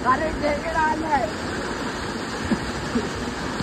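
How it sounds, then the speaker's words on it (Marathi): A small waterfall at Adai near Panvel, swollen in the monsoon, gives a steady, close rush of falling water, with brief faint voices early on. "तर हे बघा छोट्याच्या वॉटरफॉल वरती आता इथे आम्ही लोक आता पोहोचलोय छोट्याच्या वॉटरफॉलला."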